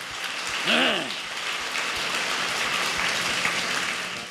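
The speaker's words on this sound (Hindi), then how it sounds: "हम तालियां बजाए प्रभु यीशु को।" A church congregation claps for Jesus, a dense, steady patter of many hands. A voice briefly rises over it near the start.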